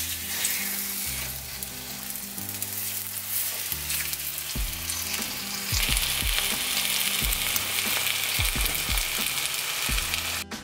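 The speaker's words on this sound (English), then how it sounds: "So let that sizzle away for about 4 or 5 minutes until you have a nice golden brown color" Loud, steady sizzling of osso buco meat searing in neutral oil in a pan, with low musical tones underneath and occasional thumps as the food is moved.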